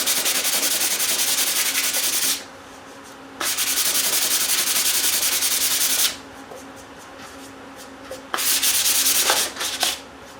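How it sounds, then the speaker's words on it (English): Wood sanded by hand makes a loud, steady rasping rub, three long sanding passes with short quiet gaps between them, close up and alone. "You see, even by hand, stuff sands real easy."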